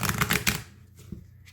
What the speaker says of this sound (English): it'll probably shuffle better